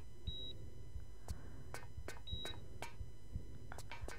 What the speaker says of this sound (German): Dieses Piepsen.